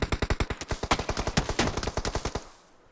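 Rapid automatic gunfire in a video game match, a sustained burst of roughly twenty evenly spaced loud shots that stops abruptly, leaving a brief fading tail.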